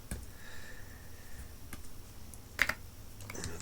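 A few scattered key presses on a computer keyboard, soft and close, with one sharper double click near the end against a quiet background.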